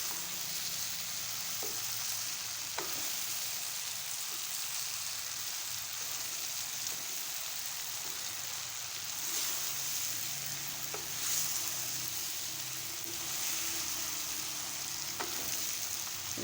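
Okra coated in masala frying in a pan, a steady close sizzle with occasional light stirring clicks and scrapes throughout.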